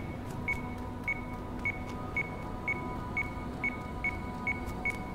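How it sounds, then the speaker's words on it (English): Radar module in The Secret World video game beeping: about ten short, evenly spaced electronic beeps roughly every half second over a steady low background hum, with no talking. "It beeps."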